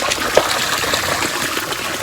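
Water trickles and gushes steadily beside a fairly large tank buried outdoors, a continuous close hiss of flowing liquid with no talking.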